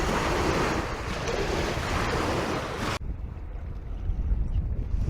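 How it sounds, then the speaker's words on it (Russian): Small waves on Lake Baikal's Barguzin Bay wash around a kayak paddling into a headwind, with dense broadband splashing and wind rush that drops abruptly to a quieter, lower surging wash partway through. "И волны. Ну, волны небольшие."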